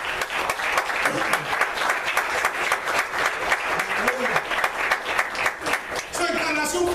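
A church congregation at a Christmas service in Winter Haven, Florida breaks into sustained, dense applause, many hands clapping steadily for several seconds, with a voice rising over the crowd near the end.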